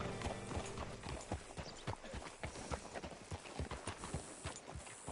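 Steady clip-clop of horse hooves at a walking pace in the video game Red Dead Redemption 2, close and fairly loud, with faint mechanical creaks underneath.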